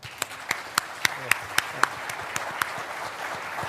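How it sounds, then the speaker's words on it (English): Scattered audience clapping at a U.S. Army conference session. A few distinct, widely spaced claps stand out over a thin background of lighter clapping, which fades toward the end. "Join me in giving them a round of applause,"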